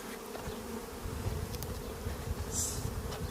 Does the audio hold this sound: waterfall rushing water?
no